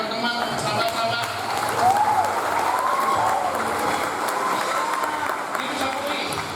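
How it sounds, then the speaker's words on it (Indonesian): Audience applause fills a seminar hall on drug-abuse awareness, a steady crowd clapping that holds at an even level throughout, with some voices and cheering mixed in beneath it. "Saya minta tepuk tangan yang meriah buat adik-adik, buat teman-teman, sahabat-sahabat."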